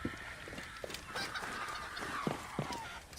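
Chicken clucking and squawking in the video game Assassin's Creed Origins, a few sharp honking calls over a busy ambient bed of background noise, fairly faint, with no talking.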